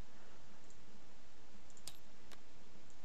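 A couple of sharp computer mouse clicks in Tabletop Simulator, two quick isolated taps close to the microphone over a steady low hiss.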